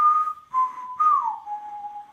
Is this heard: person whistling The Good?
yes